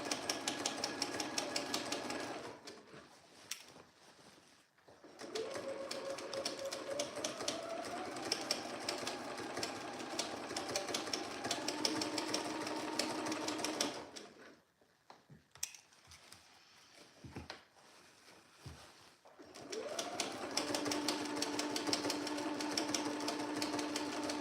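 A sewing machine stitches the side seams of a pair of trousers in long steady whirring runs, stopping and restarting several times with brief quiet pauses between.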